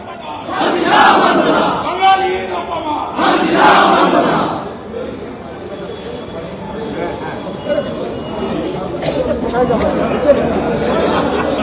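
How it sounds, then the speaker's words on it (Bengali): BJP legislators shouting slogans during a walkout from a state assembly budget session, a loud crowd of voices chanting in bursts, then a dense roar of chatter and shouting that carries on throughout. "ইতিমধ্যেই ওয়াকআউট করেছেন বিজেপি বিধায়করা, দেখতে পাচ্ছেন, সঙ্গে চলছে স্লোগান শাউটিং"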